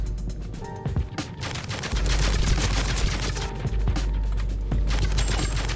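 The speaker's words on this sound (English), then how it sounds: "someone saw me running and just started shooting exploding darts at the house" Rapid bursts of explosive gunfire and booms from a battle royale video game as exploding darts hit a house, loud and dense throughout with a few sharp impacts standing out.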